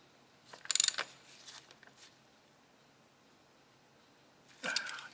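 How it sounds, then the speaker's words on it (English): A socket wrench ratchets while snugging a fitting on the transfer case of a 1995 Jeep Cherokee XJ 4x4. A short burst of quick clicks comes first, then a quiet pause and another brief ratcheting run near the end. "I'm going to snug it up with the socket wrench"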